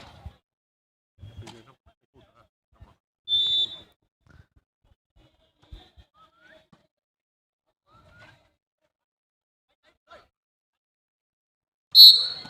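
Referee whistle blasts ring out during an amateur volleyball match, a short sharp shrill blast early and another near the end, separated by near silence with faint scattered sounds.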